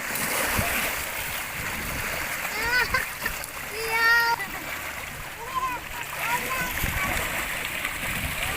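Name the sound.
children splashing while bathing in the sea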